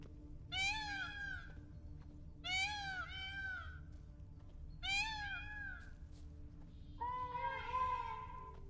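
A cat-like creature in The Witcher 3: Blood & Wine gives four drawn-out, rising-and-falling meows at a steady pace, the last lower and longer, standing clear over a low game ambience with no talking.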